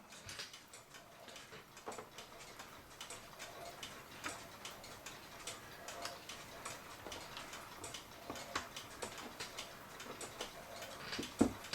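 A 1940 colored LUX cuckoo clock ticking steadily, quiet close mechanical clicks with faint gear rattles, even and continuous throughout, with no talking.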